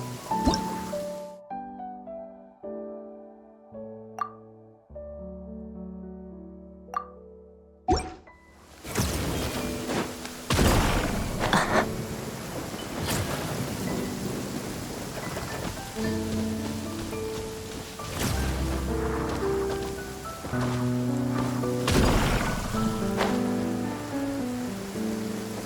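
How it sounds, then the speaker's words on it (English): Rain falls in a video game, heard as splashy drips and patters over a steady wash after a quiet opening of musical tones. No thunder stands out clearly, and the rain keeps going with occasional louder hits. "I like the rain."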